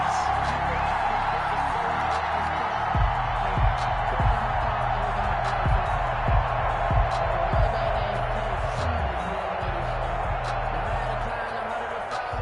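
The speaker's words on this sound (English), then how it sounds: "And this crowd loves it as their guys hold on the opening drive." A stadium crowd in a football video game keeps up a steady roar of cheering through the whole stretch. Rhythmic thumps pulse beneath it for a few seconds.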